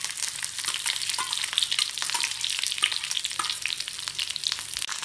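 Large chunks of a medium-sized onion sizzle and crackle steadily in hot oil while being cooked for a Kerala-style vegetable curry, with a dense, continuous fry and faint stirring, close and clear with no talk.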